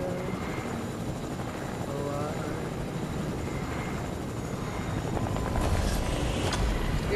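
Helicopter flying in Fortnite, a steady loud rotor drone with constant chop running throughout, with voices talking over it.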